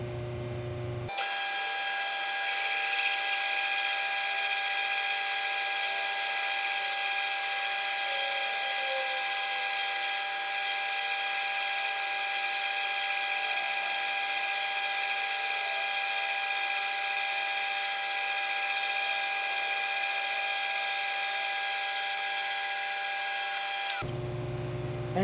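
A power drill bores a hole in a continuous steady whine that holds for over twenty seconds, loud and close, with no talking, starting and stopping abruptly.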